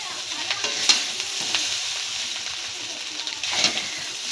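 Vegetable chowmein being stirred and tossed in a hot pan at home, a steady broadband sizzle of frying with repeated scraping and clacking strokes of the spatula, close and moderately loud, with no talk.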